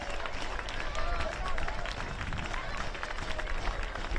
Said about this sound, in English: the Olympic players get the adulation from their supporters